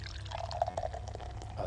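Beer pours into a glass with a soft, steady splashing and fizz that lasts for a couple of seconds, close and fairly quiet, with no talk over it.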